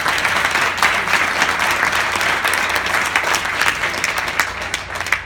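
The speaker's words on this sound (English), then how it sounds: "let's get a round of applause for that" An audience applauds people running for elected office, a dense, steady wash of many hands clapping that holds loud and even throughout, with no talk over it.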